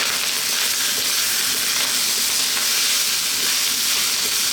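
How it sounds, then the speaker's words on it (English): Loud, continuous sizzling of rice frying over high heat for chicken fried rice, a dense steady crackle and hiss with no pauses and no voices. "That is the rice frying there."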